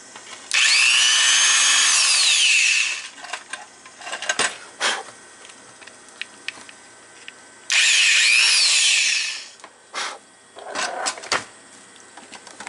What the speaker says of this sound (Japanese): 今ねドリルで穴を開けました